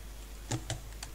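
A few keystrokes tapped on a computer keyboard while entering moves in a Python rock-paper-scissors game, three or four light clicks spaced irregularly, faint and close.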